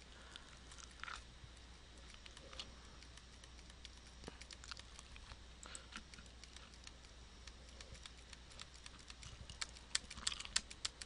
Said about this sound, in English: Just hitting the tab key, trying to find where focus is.